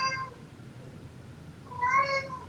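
A house cat meows twice, one short cry at the start and a louder drawn-out meow near the end, close by over a quiet room hum.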